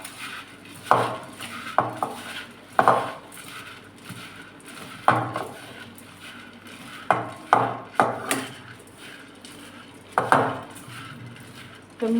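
Dry bhel ingredients — puffed rice with onion, tomato, cucumber and chilli — tossed in a bowl, giving repeated sharp clinks and scrapes of a utensil against the bowl in an irregular rhythm over a soft rustling bed, close and clear with no talking.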